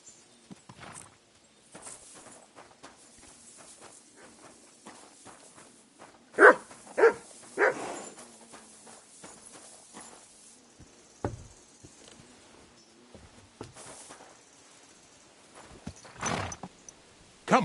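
Horse hooves galloping across open ground in Kingdom Come Deliverance 2, a steady run of clopping beats with a few louder thumps, plus what sounds like a dog barking nearby.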